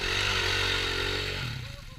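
An enduro off-road motorcycle engine drones loud and close, holding a steady pitch before its note drops and fades as the revs fall away.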